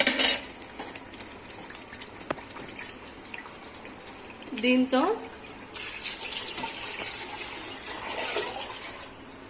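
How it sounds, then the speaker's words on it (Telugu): Utensils clink and clatter, then water pours steadily into a metal pot for several seconds, with a brief voice and kitchen noise around it. "ఇప్పుడు నేను ఇందులో వాటర్ పోస్తాను"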